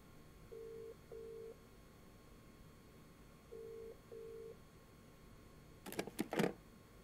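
A phone in a horror video game dials a number with paired ringback-style tones, two twin beeps repeated twice, followed by a short burst of loud crackling electric noise near the end.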